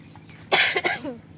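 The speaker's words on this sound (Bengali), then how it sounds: "আমার অনেক ঠান্ডা লাগছে, এই কথা মাঝখানে কাশি আসতেছে" A person with a cold coughs in a short harsh burst followed by a quick second hack, close and loud, with no talking around it.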